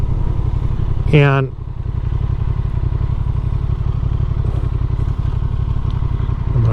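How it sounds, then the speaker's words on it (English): Honda CB500 Scrambler motorcycle engine running steadily and loud from start to finish, a continuous close rumble with one brief person's voice over it. "they asked me if I would ride the Honda CB, I believe it's a CB500 Scrambler"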